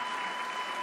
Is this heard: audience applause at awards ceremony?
yes